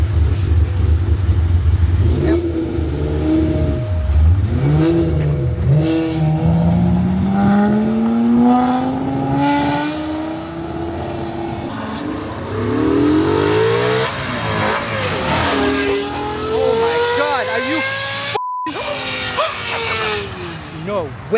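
A V10 Lincoln Continental engine, tuned to scream like an F1 car, revs hard from outside, its pitch sweeping up and down in loud rising wails, with people talking and exclaiming over it.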